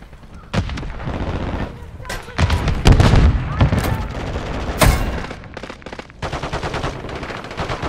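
Rapid automatic gunfire bursts and sharp single shots ring out in a Modern Warfare 3 match, loud and close with irregular rhythm and a heavy explosion-like boom, while a player talks over parts of it.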